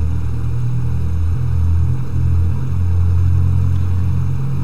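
Twin engines of a BN-2 Islander aircraft idling just after start-up, a loud, steady droning rumble with a throbbing low hum that holds evenly throughout.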